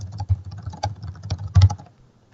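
Fingers type on a computer keyboard in a short, uneven burst of close key clicks, ending with one firmer tap before falling quiet.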